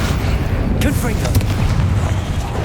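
A Confringo spell blast in the video game Hogwarts Legacy, a loud booming burst over a dense rumbling background of combat noise, with a voice briefly present.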